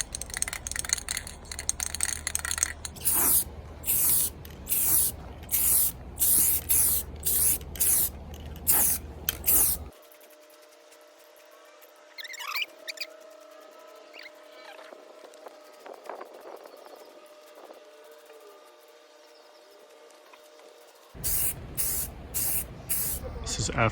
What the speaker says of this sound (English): now we're ready to spray paint it